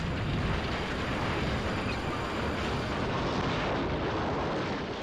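Loud, sustained crashing rumble as runaway train trucks smash into a brick tower, bringing it down in a roaring collapse of bricks and dust, dense and continuous throughout without any talk.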